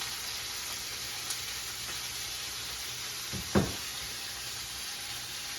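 A steak sizzles in butter with garlic in a pan, a steady hissing fry with one brief clatter or scrape partway through.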